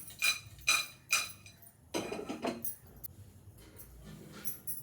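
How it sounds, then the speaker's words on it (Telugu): Dry fish tossed dry in a pan on the stove for a karuvadu curry, giving three loud metallic clinks and scrapes close by in the first second, then softer rattling and stirring with no one talking. "ఇదిగోండి, పెనంలో వేసి వేయించుకోవాలి."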